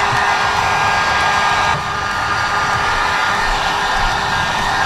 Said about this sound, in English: Just going to take the heat gun and go around everything again